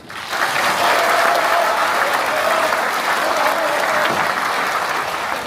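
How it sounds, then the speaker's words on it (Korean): Audience applause welcoming a provincial governor at a public event, a dense, sustained wash of clapping from a large crowd that swells in and continues steadily at full volume. "뜨겁고도 진심 어린 마음과 큰 박수로 환영해 주십시오"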